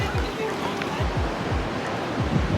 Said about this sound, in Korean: 지금 바람이 너무 많이 불고 있어요